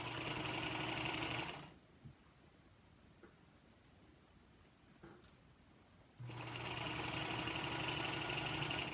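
A Featherweight sewing machine stitches through many thick layers of fabric, its steady whir running loud for a couple of seconds, stopping for a quiet gap, then starting again and continuing to the end.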